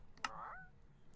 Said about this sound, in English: As you could hear, that's the sound of a chicken in Growtopia.